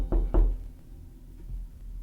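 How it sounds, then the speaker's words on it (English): Two sharp knocks on a door in quick succession, fairly close and alone, followed by a quiet room with low background rumble. "there was a knock at the door"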